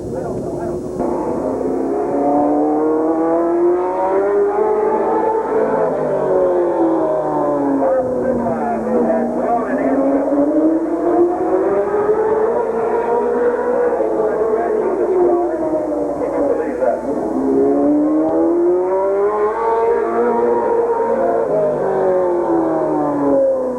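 A race car engine runs hot laps at Midvale Speedway in 1986, droning and rising and falling in pitch as it circles the track, steady and moderately distant, with a voice talking over it.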